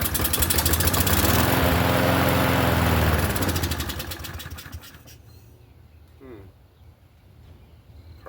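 A free Troy-Bilt push lawn mower with a rusted-through deck running loud and close, a steady buzzing drone that fades and drops after a few seconds, falling to a lower, weaker idle as it runs low.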